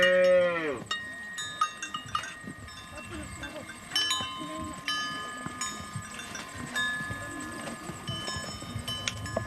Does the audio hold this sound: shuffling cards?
no